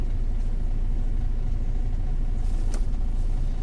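A Western Star 5700 XE semi truck, running without a load, gives a steady, close, deep engine rumble that holds an even level throughout.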